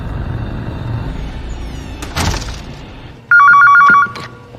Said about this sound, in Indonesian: Masuk kembali ke dalam rumah, telepon berdering yang Sheriff Roth menelpon